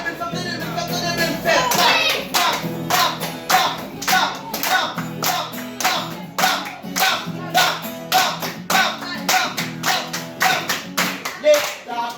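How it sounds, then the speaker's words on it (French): A crowd of children claps at a cabaret event, with loud, rhythmic, evenly spaced group claps repeating close by for the whole stretch, and voices faintly mixed in. "Applaudissez."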